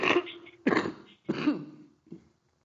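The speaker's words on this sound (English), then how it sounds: "you're not praying hard enough for this cough" A woman's cough sounds in three harsh, throaty bursts followed by a smaller fourth, close and clear with no talk over it.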